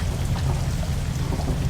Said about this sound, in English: we're not going to figure this out standing in the sodding rain